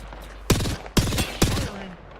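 Three sharp gunshots ring out in an online shooter, spaced roughly half a second apart, each a loud crack with a quick decay, heard over a steady game background with no talking.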